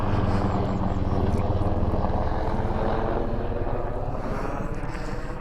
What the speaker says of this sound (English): Some sort of a military helicopter going over here.